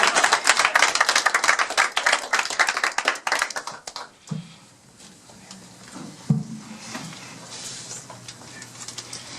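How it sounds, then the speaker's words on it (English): Guests at a Cunard 175 reception aboard the Queen Mary 2 give a dense round of applause that lasts about four seconds, then drops away to a quiet room with a few faint knocks. "So let's have a round of applause for our"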